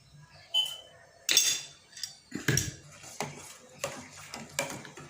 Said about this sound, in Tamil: தேவையான அளவு சர்க்கரை போட்டுட்டு அது நல்லா கிளறி விடணும்